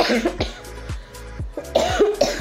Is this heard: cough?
yes